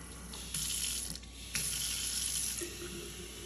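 Water pours steadily into a kombucha jar at home, a close continuous splashing stream that surges louder twice and then settles into a lighter trickle.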